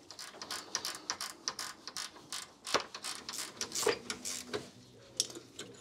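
A ratchet loosening a bolt on a BMW anti-roll bar, quick bursts of close, crisp clicking pawl strokes in irregular runs with brief metallic knocks between them.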